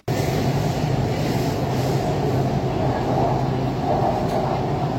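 Kolkata Metro train on the Green Line from Howrah, running through the tunnel under the Ganges: a loud, steady rumble and roar from inside the carriage, continuous throughout, with no voices.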